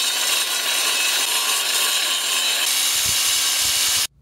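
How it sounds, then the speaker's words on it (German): An angle grinder cuts through a concrete kerb stone with a loud, continuous high-pitched whine and gritty roar, slightly changing tone near the end before cutting off abruptly. "ich schneide dieses Mal den Randstein aber im Stehen durch"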